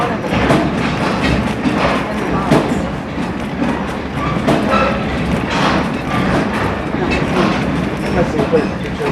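The Essex steam train rides its rails in a steady, close, loud rumble, with rhythmic clickety-clack and occasional thumps from the cars running through the whole stretch.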